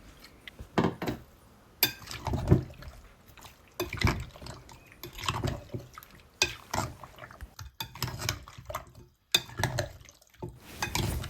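Spoon stirring chicken stock in a cooking pot, producing intermittent metallic scrapes and clinks against the pot with soft liquid sloshing, in short bursts separated by brief pauses, close and moderately loud.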